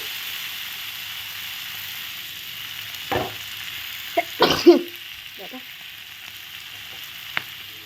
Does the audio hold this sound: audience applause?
no